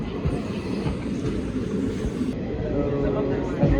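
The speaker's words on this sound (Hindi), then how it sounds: "ट्रेन में आ गए हैं।" A passenger train rolls along the rails between Khariar Road and Kantabanji with a continuous low rumble and faint clatter, heard from inside under people talking nearby.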